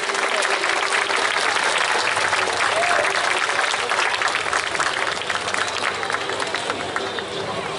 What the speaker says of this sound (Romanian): În aplauzele dumneavoastră,